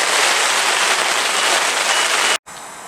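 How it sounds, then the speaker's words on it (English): Rain falls steadily at a lake, a loud, dense hiss of drops pattering on a surface close by, briefly cutting out near the end. "fingers crossed this rain moves on"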